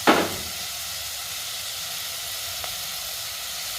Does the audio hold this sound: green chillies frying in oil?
yes